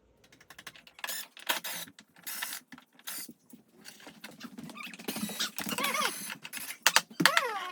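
Brackets being unscrewed from the back of a flat-screen TV lying face down on a bed: close, irregular metallic clicks, ratcheting and small scraping taps in short bursts, with a steadier rattling stretch toward the end.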